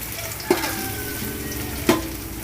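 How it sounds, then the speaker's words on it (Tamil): Garlic and ginger paste sautés in a hot pan. A continuous sizzle is broken by two sharp scraping strokes of a spoon against the metal, close and fairly loud, with no voices. "நல்லா வதக்குங்க."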